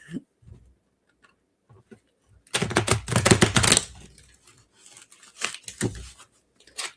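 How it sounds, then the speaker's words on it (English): A burst of rapid, dense riffling clicks from a slippery tarot deck being shuffled, about a second long, followed by softer scattered card taps as the cards stick. "That shuffle didn't go so well, Nancy."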